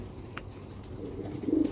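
Low soft cooing from pigeons, a male and female pair kept in a loft, heard briefly and close near the end over quiet background hiss.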